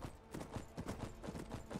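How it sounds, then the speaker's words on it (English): Horse hooves clip-clop in a steady, even rhythm through modded Skyrim Special Edition, each muffled thud close and distinct in an indoor dungeon space, with no talking over them. "My horse seems to have found his way in here"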